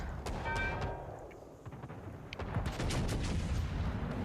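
Heavy battleship gunfire in a naval video game, a broadside from the Bismarck thundering in rapid booms followed by further distant blasts and rumbling impacts, loud and layered throughout.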